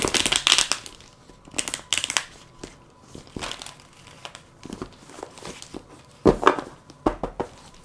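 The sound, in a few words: shuffling tarot cards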